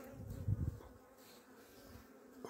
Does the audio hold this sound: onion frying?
no